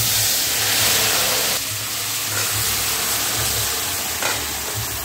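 Chana dal hits hot oil with whole spices for a jackfruit curry, giving a loud, steady sizzle and hiss that eases slightly as it settles, with faint clinks of stirring.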